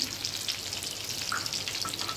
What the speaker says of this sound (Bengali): এগুলো একটু গরম তেলে দিচ্ছিল